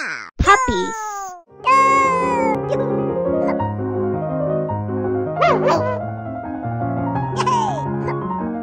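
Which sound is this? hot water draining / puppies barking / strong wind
puppies barking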